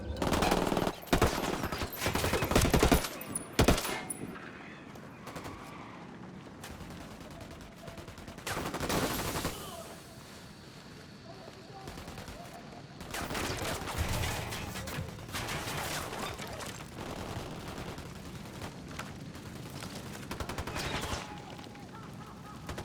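Tom Clancy's Ghost Recon Wildlands firefight with repeated bursts of gunfire at moderate loudness, some shots sharp and near, others thinner and more distant, running under scattered game voices.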